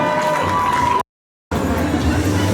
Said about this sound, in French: Vous pouvez applaudir nos cosplayers